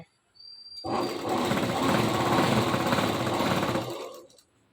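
A sewing machine runs a steady line of stitches along a salwar waistband, starting up, holding a close, continuous rattling hum, then winding down to a stop.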